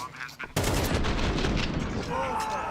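Pistol gunshots in a Counter-Strike match replay, a sudden loud burst of sharp rapid shots that starts abruptly after a quiet moment and rattles on for about two seconds.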